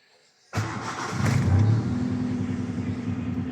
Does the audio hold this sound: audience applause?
no